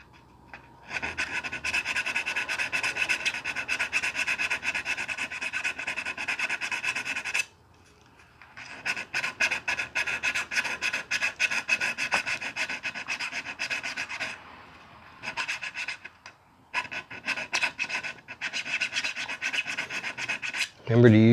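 Metal file stroked up and down along the edge of guitar frets to smooth them, a steady close rasping scrape in long runs broken by short pauses, no voices.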